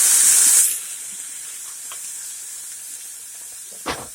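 Apple cider vinegar poured onto caramelizing onions in a hot pan, a sharp loud hissing sizzle that fades within a second into a faint steady simmer, with one brief utensil knock near the end.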